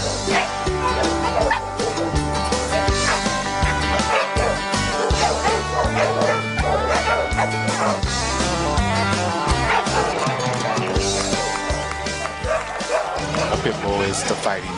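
A pitbull terrier barks and yips repeatedly against a dense, loud backdrop, its sharp calls coming in quick bursts throughout.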